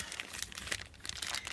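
A plastic bag crinkles and rustles close by with a steady busy texture of soft crackles, handled quietly without talk.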